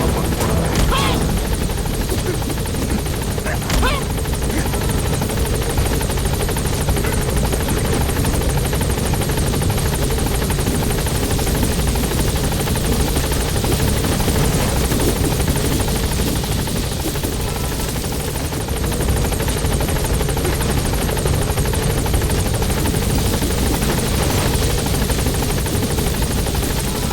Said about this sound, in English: Support helicopter Stand by. has arrived.